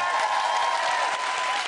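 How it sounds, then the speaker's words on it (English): Audience applause for celebrity contestants and their professional dance partners on a movie-themed dance show night: dense, steady clapping from a large studio crowd, sustained throughout at an even level. "Give them a round of applause."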